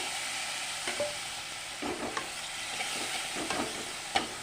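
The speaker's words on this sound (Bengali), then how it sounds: "ভালোভাবে মশলাটা কষে নেবে" Spice masala with Kashmiri chilli powder and a splash of water frying in oil for banana-flower ghonto, a steady close sizzle punctuated by scattered spatula scrapes and taps, no one speaking.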